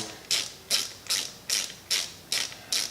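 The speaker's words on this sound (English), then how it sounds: "this torque wrench doesn't go any lower than 150" Torque wrench ratcheting on Honda head gasket bolts, seven crisp rhythmic clicking bursts at an even pace, close and moderately loud, with no other sound between them.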